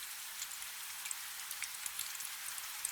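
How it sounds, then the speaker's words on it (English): Steady rain falls on thick glass windows above, a faint, even hiss dotted with light scattered drips and ticks, heard alone. "As you approach, the rain begins to fall more steadily."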